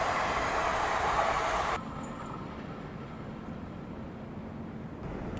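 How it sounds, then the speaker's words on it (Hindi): An intercity passenger train on the Ahmedabad–Mumbai line rumbles past, a loud broad roar of wheels and cars that abruptly thins to a steadier, quieter rolling drone as it moves on, with no voices. "कोई इंटरसिटी ट्रेन लग रही है मुझे तो ये।"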